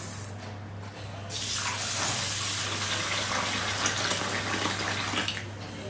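Clean water gushes steadily from a tap over rice and urad dal being washed in a kitchen, a loud continuous splashing rush with a brief quieter moment near the start.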